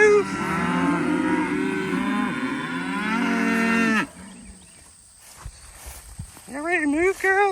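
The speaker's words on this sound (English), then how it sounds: "So let's get the cows moved." Murray Grey cattle low loudly and at length while a herd is being moved across pasture, one long drawn-out moo followed by a brief lull, then several shorter calls overlapping near the end.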